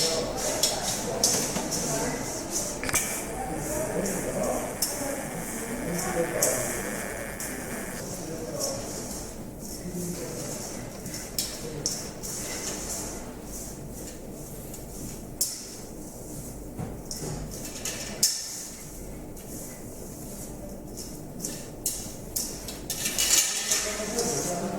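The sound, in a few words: mixing Florentine cookie ingredients in a bowl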